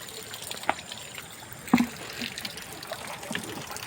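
Water flows by itself from a hand pump as a faint, steady trickle, with a couple of brief splashy knocks near the start.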